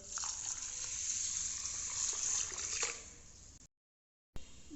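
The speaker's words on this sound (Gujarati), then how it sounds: "દાળ ચોખાને આ રીતે ઘસી અને ધોઈ લેવાના છે" Rice and urad dal being rubbed and rinsed in water in a bowl, a steady sloshing, squishing wash of water that cuts out briefly near the end before resuming.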